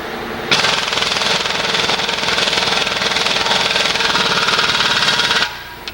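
A loud, rapid mechanical rattling of a socket being driven to seat a front bearing hammers on continuously for several seconds, then cuts off abruptly, leaving quiet.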